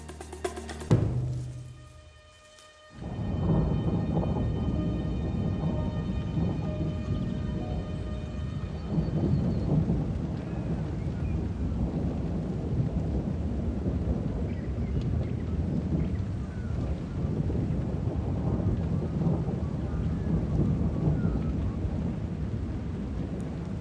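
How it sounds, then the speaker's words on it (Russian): Spring rain falls steadily in a forest, with a loud thunder crack and rumble near the start followed by continuous heavy rain hiss for the rest, no voices. "приближением весны снегопад сменяется дождями. Частыми дождями."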